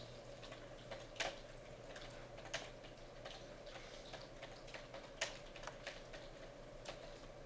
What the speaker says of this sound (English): I'm going to type Mount San Antonio College